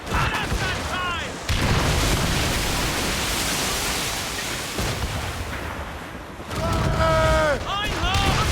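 Heavy cannon fire during a naval battle in the video game Assassin's Creed Rogue: loud, sustained booming and roaring blasts with a brief lull, while voices shout over the noise.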